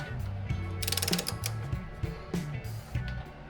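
Ratcheting torque wrench tightens a front strut bolt to 125 foot-pounds on a Ram 1500 pickup, with rapid clicking pawl bursts and metallic creaks heard close up, no voices.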